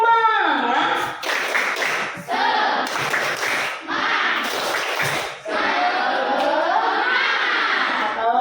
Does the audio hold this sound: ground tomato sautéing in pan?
no